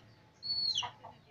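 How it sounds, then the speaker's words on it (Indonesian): Chickens in a rooster coop give one faint, short clucking call against quiet background hiss. A smaller, softer cluck follows close behind, and no one speaks. "Oh, ayamnya banyak."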